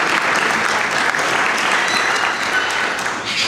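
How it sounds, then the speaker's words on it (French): A crowd applauds steadily at a football club's official season presentation, dense clapping from many hands, loud and sustained throughout. "Je vous demande d'applaudir"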